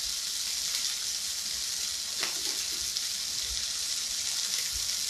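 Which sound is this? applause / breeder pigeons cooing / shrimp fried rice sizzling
shrimp fried rice sizzling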